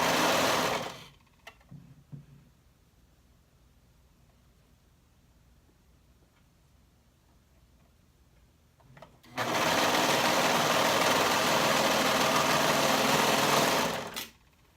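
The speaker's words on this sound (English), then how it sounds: "sew those side seams up with a 1/2 inch seam allowance" A sewing machine stitches the side seams of a bodice with a half-inch seam allowance, a short burst at first, then a long quiet pause before a steady, loud whirring run of about five seconds that stops abruptly.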